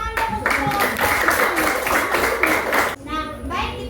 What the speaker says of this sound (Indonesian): Baik semuanya, tepuk tangan dulu.